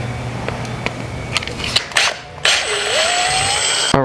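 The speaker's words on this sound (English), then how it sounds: "There's another 12mm bolt right here that we're just going to remove." A ratchet works loose a 12mm bolt on a car shifter during a Subaru BRZ transmission job, giving a few sharp clicks and rattles followed by a rising mechanical whine, close and clear.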